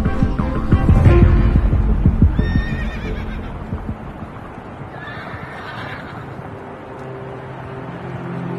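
A Karabair horse, one of a group of foals recently weaned from their mothers, lets out a loud, close whinny in the first seconds over faint hoof clops, followed by quieter stable rustling and distant calls.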